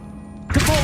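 A Descendo spell in Hogwarts Legacy lands with a sudden loud slam about halfway through, a heavy thunk followed by a rumbling crash that rings on, after a quiet background hum.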